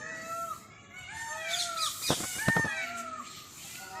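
Peacock calls during a pilgrimage walk at Vrindavan, several harsh, rising wails repeating at a moderate distance over faint outdoor background.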